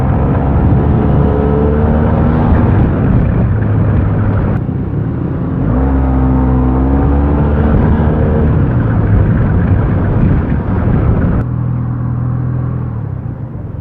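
Yamaha T-Max 530 maxi-scooter being ridden, a loud continuous engine drone and road rumble heard close up, pitch rising and falling as the rider accelerates.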